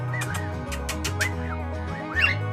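Pet bird Jojo gives a string of short chirps and squawks nearby, scattered irregularly over a steady low background hum, with a louder call near the end.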